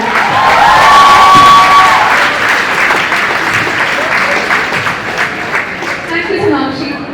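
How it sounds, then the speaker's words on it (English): A large audience at a school farewell ceremony gives loud, sustained applause mixed with cheering and whoops, filling the hall evenly before easing slightly toward the end. "Can we have a huge round of applause for the badge of citizens?"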